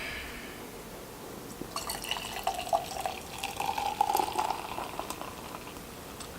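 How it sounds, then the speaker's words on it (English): Big Sexy Brewing Hazy Handshake, a hazy New England style double IPA, poured into a glass: a soft, steady trickling and bubbling stream with fizzing, fairly quiet and continuous for several seconds. "All right, time to pour this."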